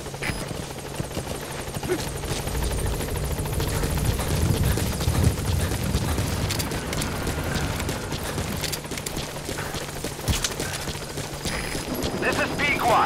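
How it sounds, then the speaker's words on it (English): In Metal Gear Solid V, a support helicopter arrives at the landing zone with a steady loud rotor drone throughout, and the radio voices and gunfire of the game layer over it. "Support helicopter has arrived."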